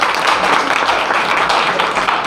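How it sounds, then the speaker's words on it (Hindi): Audience applause at a prize-giving event at Swami Vivekanand Inter College in Khurhat, Mau: steady, dense clapping from a crowd filling the whole stretch at an even level. "जोरदार तालियां होनी चाहिए"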